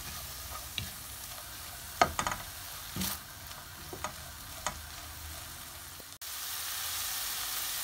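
Spices with half a teaspoon of cumin roasting in a pan for a black chickpea dish, a low steady sizzle under scattered stirring scrapes and clinks, then a louder, brighter hiss near the end, no speech.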